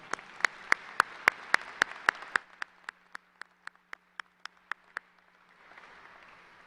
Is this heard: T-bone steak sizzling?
no